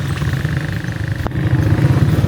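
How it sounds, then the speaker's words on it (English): Steady vehicle engine drone heard while riding on the back of a truck near a hotel in Angeles City, continuous and fairly loud with a brief knock midway. "This is a ride on the back of the truck."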